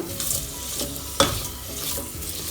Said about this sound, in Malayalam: അങ്ങനെ ബട്ടറിൽ കിടന്നിട്ട് ഈ വെജിറ്റബിൾസ് എല്ലാം ഒന്ന് നന്നായി ഒന്ന് വഴണ്ടി വരട്ടെ